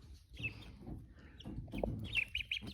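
A pet turkey hen calls on a small farm among ducks, giving a few short, bright clucking notes near the end over low rustling and shuffling, close by and moderately loud.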